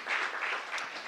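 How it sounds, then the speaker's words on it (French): Audience applause at a round-table discussion with elected officials, brief and fairly faint, a soft wash of clapping from a modest crowd over about a second. "Je crois qu'on peut applaudir une fois."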